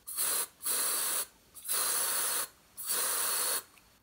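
Close aerosol spray hissing in three bursts, each about a second long with short pauses between, loud and steady, with no voices.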